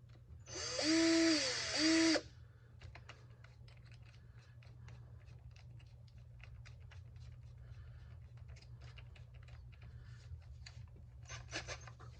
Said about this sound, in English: See how she drills.